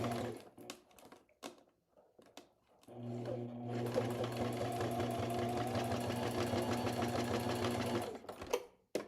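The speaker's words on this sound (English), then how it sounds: "Bring my machine in and stitch the thread in place, the rickrack." A few soft clicks and taps, then a sewing machine stitching rickrack runs steadily for several seconds with a rapid mechanical hum before stopping.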